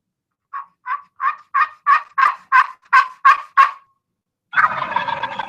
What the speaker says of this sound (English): I'm going to do a quick call, which would typical call for turkeys.